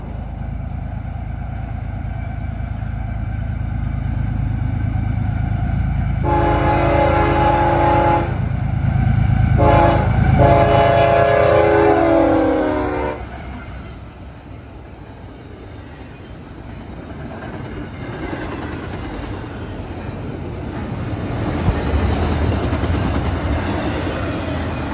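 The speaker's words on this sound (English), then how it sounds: "Following very closely behind the 162 was CSX IO20, a hotshot intermodal train out of Bedford Park," CSX IO20, a hotshot intermodal freight train, rolls past with a long, loud horn blast partway through, over continuous rumbling and clattering wheels that fade and then swell again toward the end.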